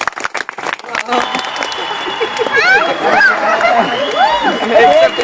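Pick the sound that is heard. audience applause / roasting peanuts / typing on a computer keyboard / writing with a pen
audience applause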